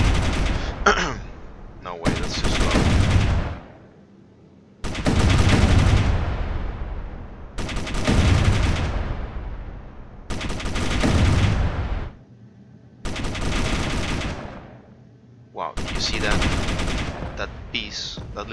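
Ship weapons firing in the Space Engineers video game, with long sustained bursts of loud gunfire separated by short pauses, about seven volleys in total.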